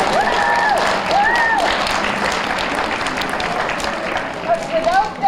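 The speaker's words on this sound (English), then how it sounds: "How about a big round of applause for the Girl Scout volunteers?" A crowd at a Girl Scouts World Thinking Day gathering claps for the volunteers, broad sustained applause with a few whistles and cheers riding on top, fairly loud throughout.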